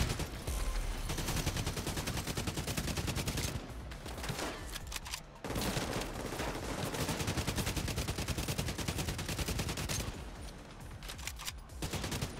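Sustained gunfire in the video game The Division 2, dense overlapping bursts of automatic fire and shots filling the mix almost continuously, loud and close with brief dips.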